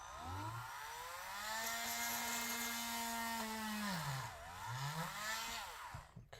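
Small power drill with a drill bit boring into a Mafex Superman action figure at the waist joint during a repair: a close, loud whine that holds steady, dips sharply as the motor slows, then spins back up before stopping.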